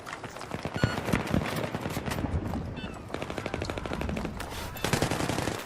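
Rapid bursts of M39 EMR sniper rifle fire from Battlefield 3 crack out one after another in quick strings of sharp shots, loud and close, running nearly continuously with only short gaps between volleys.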